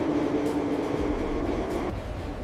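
A steady rumble of a passing train fills the whole stretch, constant and fairly loud with no speech over it.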